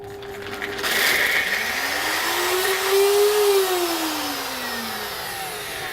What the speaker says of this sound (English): NutriBullets are pretty epic and very powerful, so we'll see how we go